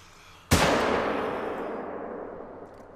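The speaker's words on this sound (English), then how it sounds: "I'm gonna try shooting one of these ones." A single sharp rifle shot in the hunting game theHunter: Call of the Wild, loud and sudden, followed by a long rolling echo that fades over a couple of seconds.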